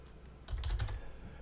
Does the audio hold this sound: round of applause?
no